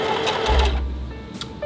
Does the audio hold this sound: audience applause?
no